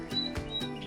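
A variegated yellow canary in a stock cage gives a few quick, thin chirps in short repeated bursts, close and fairly soft, against a steady room hum.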